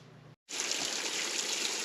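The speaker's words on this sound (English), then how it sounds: "Plenty of running water here" Water runs and splashes steadily in an old slate quarry as a continuous hissing flow, fairly close. A brief quieter stretch and a short gap come before it, with no speech.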